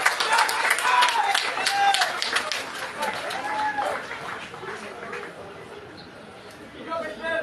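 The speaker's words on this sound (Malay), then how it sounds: "Beri tepukan yang gemuruh." A political rally crowd claps and cheers, a burst of applause mixed with chatter and murmuring that fades toward the end, with voices heard throughout.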